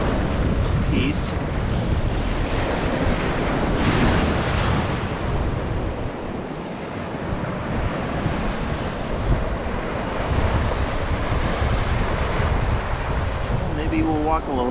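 Ocean waves at night on Navarre Beach, Florida, rolling and washing ashore in a steady, loud roar with wind buffeting the microphone throughout and no talk.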